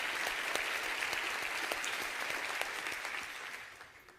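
An audience at the Harris County State of the County address applauds law enforcement officers, a sustained, even round of clapping from a large crowd, moderately distant, that tapers off toward the end.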